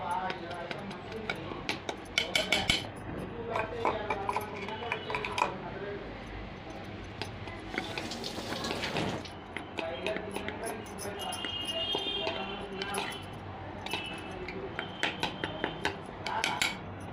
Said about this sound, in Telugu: పిండిలో ఒక చెంచే పాలక్ పేస్ట్ కలుపుతానండి